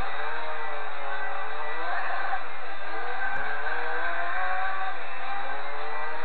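A race car in Gran Turismo 4 roars loud and steady, its engine note shifting as the tyres spin and skid, with no voice over it.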